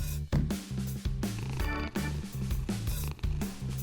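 A pet cat in a video game purrs softly and steadily beneath rhythmic, punchy background game music, the whole passage quiet and low in level.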